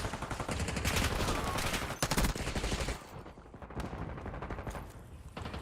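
Sustained automatic gunfire in a Call of Duty hardpoint match, dense rapid bursts that are loud and continuous for several seconds, then fade to scattered shots over game ambience.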